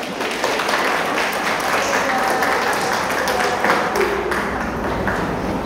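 Audience of women at a parenting seminar applauds steadily throughout, a dense, even patter of clapping filling the room, with a voice speaking over it.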